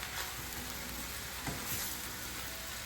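Paneer bhurji being stirred and mixed in a hot pan, a low steady sizzle with a few soft scraping strokes of the spoon, no voices.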